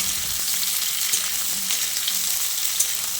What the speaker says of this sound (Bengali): প্রায় 3-4 মিনিট সময় ধরে ঝিঙেটাকে আমি ভেজে নিয়েছি